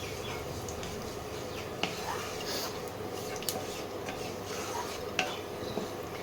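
Spices for tempering stirred in a hot pan with a steady soft scraping and faint sizzle, a few sharper metallic clinks of the spoon against the pan standing out.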